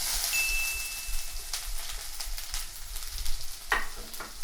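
Mustard seeds and chana dal fry in hot oil for poori masala, a close crackling sizzle with sharp popping bursts scattered throughout, no talking.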